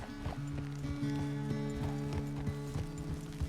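Horse hooves clip-clop in an even walking rhythm, close and clear, over a sustained tonal musical drone, in the video game Red Dead Redemption 2 at a ranch.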